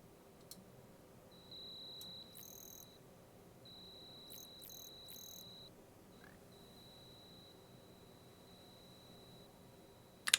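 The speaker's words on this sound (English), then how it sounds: "So peaceful, you can hear the crickets chirping." Crickets chirp at night in Ultima VII, a thin, steady high trill broken by brief gaps and a few faint clicks, quiet and alone.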